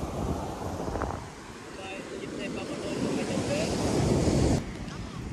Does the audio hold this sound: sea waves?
yes